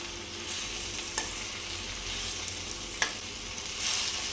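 Chukkakura greens with chana dal stirred and frying in a pan, a steady close sizzle with a few sharp scraping clinks of the spoon, no voices.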